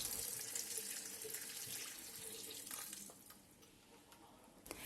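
Water runs steadily into a pot of melon rinds, a continuous hissing pour that fades slightly toward the end.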